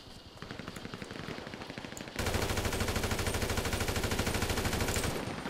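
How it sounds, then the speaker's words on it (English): Rapid machine gun fire in GTA 5, a steady stream of close, loud shots that grows heavier and denser partway through and continues without pause. "Let's go back to the machine gun"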